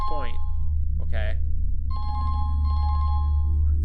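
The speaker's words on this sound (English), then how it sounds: "The phone is ringing." A telephone rings in the video game Rakuen, two electronic ring bursts with a pause between them, heard over a low steady hum after a few short synthetic game sounds.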